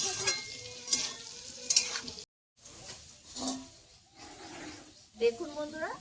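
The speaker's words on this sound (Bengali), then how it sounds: "নুন হলুদ দিয়ে আলুটা ভেজে নেব।" Potatoes seasoned with salt and turmeric fry in a pan with a quiet sizzle and occasional stirring scrapes, interrupted by a brief silence, with faint voice-like sounds near the end.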